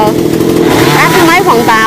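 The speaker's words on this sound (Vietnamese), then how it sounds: "Ba của Hoa đã có cưa hết mấy quả dừa rồi" Chainsaw revving loud and close while cutting coconuts from a coconut palm, its buzzing engine note rising and falling steadily, with voices talking over it throughout.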